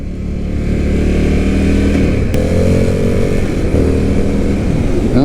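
An Indian FTR 1200 motorcycle accelerates hard on a road test ride, its engine note rising steadily and loud close to the rider, with a brief gear change partway through and wind rush underneath.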